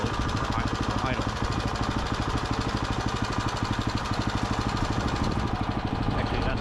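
A repowered Gravely Model L walk-behind tractor engine idles steadily nearby, a continuous rapid thumping pulse with a faint mechanical rattle, running alone without talk.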